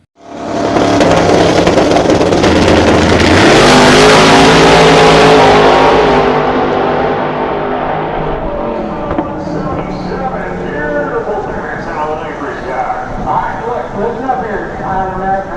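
A Pro Charge Chevrolet race car roars loudly at a drag racing event, its engine sound sustained then easing off, under an announcer's continuous commentary.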